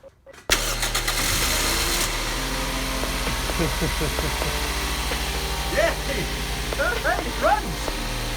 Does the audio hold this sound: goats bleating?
no